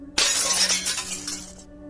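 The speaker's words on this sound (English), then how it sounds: "then I heard a glass shatter" A glass breaks with one sharp crash and a bright spray of shards that rings out for about a second and a half before cutting off, close and clear against a faint steady hum.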